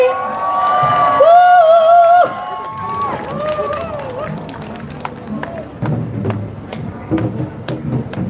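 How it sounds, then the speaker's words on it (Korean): At an outdoor rally in Korea, as a performance troupe takes the stage, a drawn-out vocal whoop gives way to scattered, uneven claps and crowd noise that thin out and pick up again over several seconds. "환호 부탁드립니다. 박수도 같이."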